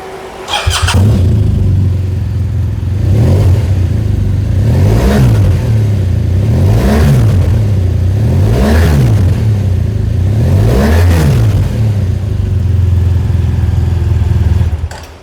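A 2020 BMW R1200GSA motorcycle engine idles loudly nearby and is revved repeatedly, about five rising-and-falling throttle blips in a steady rhythm, with no talking.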